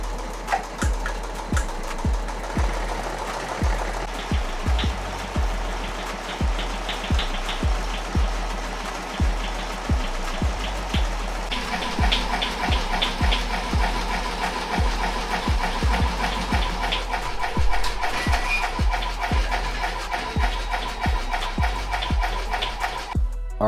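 Embroidery machine stitching 3D puff designs on Richardson 112 hats at moderate speed, a steady close mechanical chatter of rapid needle strokes with regular thumping pulses throughout, and no talk.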